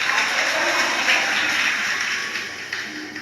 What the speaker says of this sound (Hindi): एक बार जोरदार ताली बजाकर साथ।